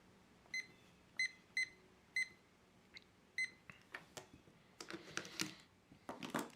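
A digital timer being set gives a series of about six short, clear electronic beeps at irregular intervals, followed by softer clicks and handling noises close by.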